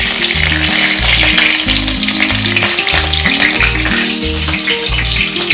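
Green chilies hitting hot oil in a pan while cooking shahi paneer, a loud steady sizzle close by with a continuous crackling spatter.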